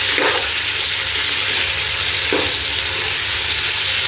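Four medium onions sizzle steadily in a pot for aloo chicken, a constant close frying hiss with two brief stirring scrapes and no talking.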